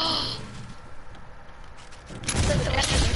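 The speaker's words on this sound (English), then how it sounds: "Who's shooting inside of your base?" Gunfire rattles inside a base during a multiplayer video game, a quick burst at the start and a heavier loud barrage near the end, with quieter game noise in between.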